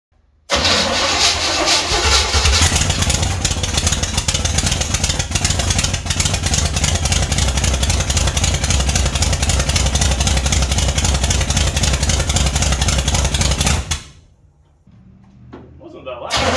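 A rat rod car engine cranks and catches, then runs loud and steady for about thirteen seconds before cutting off abruptly, leaving faint shop noise behind.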